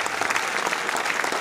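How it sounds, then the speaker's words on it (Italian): Audience at the Premio Curinga Mediterraneo award ceremony clapping steadily, a dense and lively burst of applause heard briefly and close. "Un grande applauso a un calabrese"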